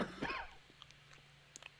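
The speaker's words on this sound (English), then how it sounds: "I didn't even click the button. I just coughed." A single short, harsh cough close up at the start, followed by quiet faint clicks and background hum.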